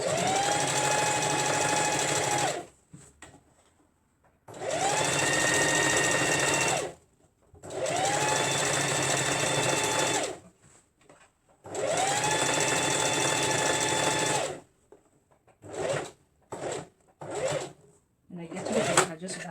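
A sewing machine runs in four long steady bursts of stitching on short pants, separated by brief pauses, then a few short stuttering runs at the end; a voice speaks briefly near the end.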